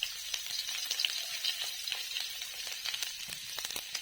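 Two chillies sizzling in hot oil in a kadai during a village-style tangy crab cooking, a steady close crackle with scattered sharp spits and pops, no talk.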